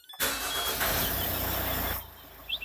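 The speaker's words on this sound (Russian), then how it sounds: "Все, двигатель запущен" A car engine cranks and catches, then runs at a steady, even idle for under two seconds before quieting; close and clear, with no voices.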